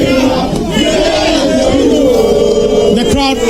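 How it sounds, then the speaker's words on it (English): A large, uncontrollable crowd at a political visit by John Mahama shouts and cheers loudly and continuously, a dense roar of many voices close by. "The crowd is getting really uncontrollable. It's an uncontrollable crowd."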